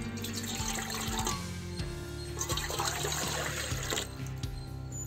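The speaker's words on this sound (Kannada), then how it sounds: "ಮೊದಲಿಗೆ ಮಟನ್ ಬೇಯಿಸ್ಕೋಬೇಕು, ಚೆನ್ನಾಗಿ ನೀರು ಹಾಕ್ತಾ ಇದ್ದೀನಿ." Water is poured into a cooking pot for boiling mutton, a continuous close splashing stream with a steady low hum beneath, without speech.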